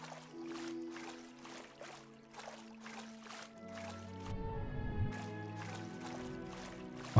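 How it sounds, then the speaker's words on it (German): Water sloshing and splashing in a swamp in the dinosaur survival game The Isle Evrima: a regular series of soft splashes, like steps or paddling, runs under faint tonal game sounds, then a deeper churning swirl of water follows. "Auf einmal höre ich es nur plätschern"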